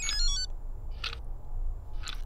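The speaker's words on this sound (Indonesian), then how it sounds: "Tiba-tiba terdengar HP-ku berbunyi." A mobile phone ringtone chimes in short melodic bursts at the start, near one second and again near the end, moderately loud over a low background hum with no talking.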